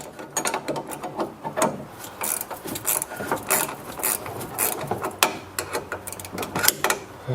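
Hand ratchet loosening the nut on a front sway bar link of a Dodge Charger, Challenger or Ram 1500, a long run of rapid close clicking strokes in an uneven rhythm with brief pauses.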